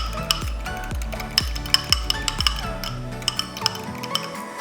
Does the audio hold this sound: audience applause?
no